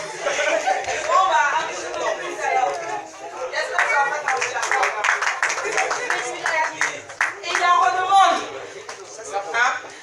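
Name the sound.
audience applauding a comedian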